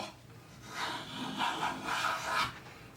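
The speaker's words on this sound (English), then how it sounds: "Getting nice full length shavings" A Jorgensen No. 102 block plane pulls full-length shavings off a wooden board in a few smooth, rasping strokes, close and fairly quiet, each swell of scraping friction rising and fading in turn.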